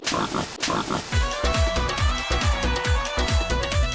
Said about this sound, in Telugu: పెద్ద పంది చిన్న పంది